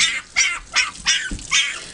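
Puppies squawk and yelp during a bath, with about five short high-pitched cries in quick succession, close and fairly loud, with faint splashing beneath.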